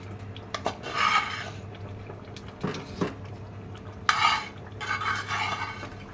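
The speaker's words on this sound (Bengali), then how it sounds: "কষাতে হবে সুন্দর করে, এটা এভাবে কষিয়ে নেব।" Pieces of rohu fish are stir-fried in a pan for mustard rohu, with a spatula scraping and stirring in several separate close, loud bursts over a faint sizzle.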